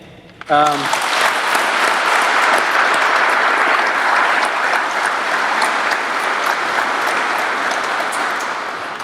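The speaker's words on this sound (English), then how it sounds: "I would like to please extend a round of applause to the band." An audience at a Marine lieutenant colonel's retirement ceremony breaks into loud, full applause for the Marine band, steady dense clapping that swells quickly and holds, with a brief voice at the start.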